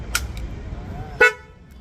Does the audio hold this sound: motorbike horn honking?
yes